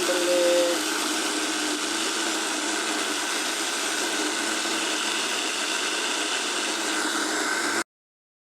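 A mixer grinder runs steadily at close range, grinding curry spices such as pepper, chilli, turmeric and tomato into a paste. The broadband whirring stays at a constant level for about eight seconds and then cuts off abruptly.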